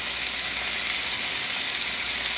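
Chicken pieces searing in a pan make a steady, even sizzle with no pauses and no talking.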